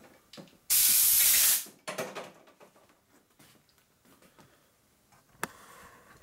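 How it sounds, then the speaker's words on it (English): Compressed air blasts debris out of a freshly worked part in a shop building a 650cc Harley XL single Sportster land-speed racer, with one loud close hissing burst lasting under a second, followed by lighter handling clatter and a sharp knock. "we blow the trash out of it"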